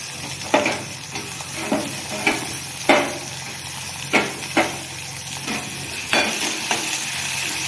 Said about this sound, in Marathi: कांदा हा जास्त परतून न देता त्याच्यामध्ये टोमॅटो टाकायचे।